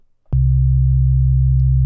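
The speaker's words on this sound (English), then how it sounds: "Sine wave does that." A pure sine wave bass tone from Ableton Live starts abruptly and holds at one steady low pitch, loud and clean, with no other sounds.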